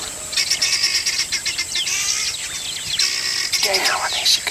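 A flock of guinea fowl calls in the wild bush, with repeated shrill, overlapping chirps over steady insect buzz, fairly close and continuous.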